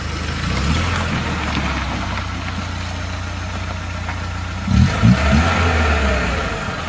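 A car engine idling in a garage with a low, steady rumble, then revved in two short sharp bursts toward the end before settling back to idle.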